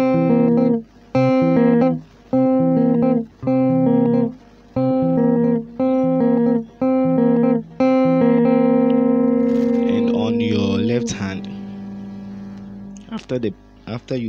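A guitar strums the Ghanaian yaa aponsah rhythm pattern, bright repeated chords in short choppy bursts with brief gaps, then a longer sustained strum that rings out and fades, played alone and up close.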